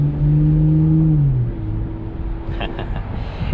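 A 2021 BMW M440i Convertible engine drones steadily while driving with the roof down, its exhaust note dropping in pitch as it eases off, with faint higher whirs late on.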